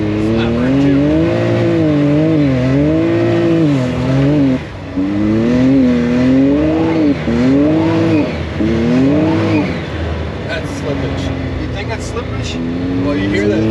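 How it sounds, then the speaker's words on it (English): A tuned Can-Am Maverick X3 EVO R3 side-by-side with its tires spinning on icy ground gives a loud, continuous whining drone that rises and falls in pitch in repeated surges before settling steady near the end. "It's like the sound of the tires spinning on the ice that's actually making that noise?"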